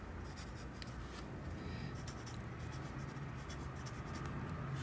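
Pencil strokes scratch steadily across paper while sketching a character's red jumpsuit outfit with its collar, a close, continuous dry rubbing with brief pauses between lines.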